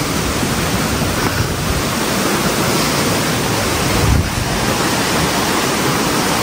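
A forest river rushes after heavy wind and rain, making a loud, continuous broadband roar of water that stays close and unbroken.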